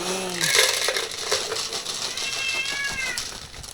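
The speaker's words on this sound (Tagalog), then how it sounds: "aring aming pusang yaw ng yaw din sa aking paanan" A house cat meows repeatedly at close range near someone's feet, giving several drawn-out, rising cries alongside light rattling and clinking sounds.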